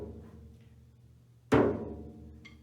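A single strike on Tom 1, the 10-inch high tom of a drum set, one loud close hit that rings out briefly after a quiet lead-in, with a faint murmur behind it.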